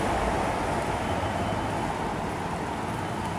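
A steady rumbling roar of an LRT light rail train rolling past nearby in Manila, continuous and fairly loud without any voices.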